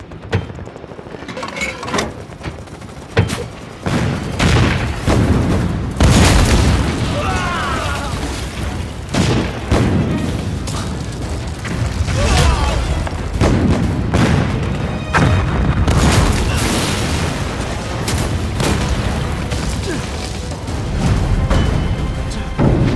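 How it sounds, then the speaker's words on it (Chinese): Artillery cannon fire and explosions in a war drama battle scene: repeated sharp booms and bursts at irregular intervals, loud and close, mixed with shouted voices and clattering action throughout. "瞄准目标，准备开炮！"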